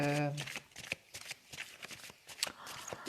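Tarot cards shuffled and drawn by hand, a series of soft quick riffles and snaps close up, with a person speaking over them.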